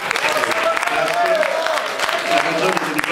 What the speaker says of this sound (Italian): Forza e coraggio, un applauso di incoraggiamento.